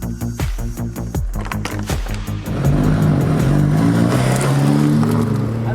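A Donkervoort D8 GT with a 1.8 litre turbocharged Audi engine revs through rapid gear changes and then pulls hard under sustained acceleration, loud and close, with no talking.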